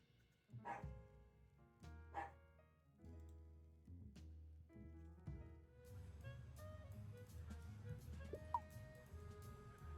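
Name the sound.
dogs barking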